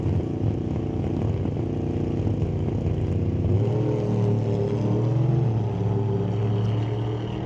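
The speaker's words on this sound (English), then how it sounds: "It's got a Duramax in it. Trying to build boost right now." Diesel Duramax engine in a drag racing car building boost at the start line, a steady loud droning rumble with a rising turbo whine midway, close and sustained, no talk over it.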